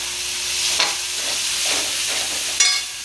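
Boiled noodles stir-fry in a kadhai over a high gas flame, giving a steady loud sizzle with occasional scraping stirs and sharper crackles.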